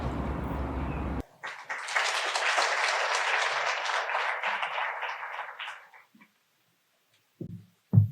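Sustained applause from a crowd at a 50th anniversary celebration, steady and full for several seconds, then tapering off into a few scattered claps and brief noises.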